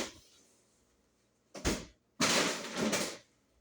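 A door swings and knocks as suction pulls it, two separate bursts of rattling, thudding movement, close by and fairly loud, after a quiet opening stretch.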